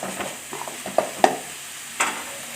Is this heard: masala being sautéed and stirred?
yes